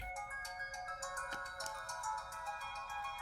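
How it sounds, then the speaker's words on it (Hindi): Mobile phone ringtone of an incoming call from mother, a bright repeating electronic melody with a steady pulsing rhythm, playing alone and moderately quiet. "माँ का फोन है।"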